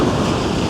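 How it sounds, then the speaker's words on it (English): Ocean surf rushes in loudly at a fishing spot, a broad, close wash of breaking water with wind buffeting the microphone, no voices. "Comes a wave."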